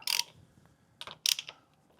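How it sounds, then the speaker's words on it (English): Transmission pan bolts being loosened with a ratchet, three short bursts of rapid clicking ratcheting close by in a quiet garage, no voices. "Loosen off a couple bolts and drain it into our pan here."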